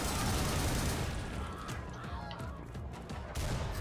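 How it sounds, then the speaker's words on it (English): Sustained assault rifle fire in the video game BUTCHER, a dense rattling barrage of rapid shots with crashing impacts, loud and continuous across the whole stretch. "Assault rifle."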